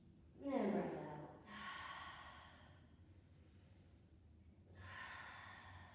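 Slow, audible breaths in and out during a gentle yoga flow, a sharp inhale followed by long soft exhales, close and quiet.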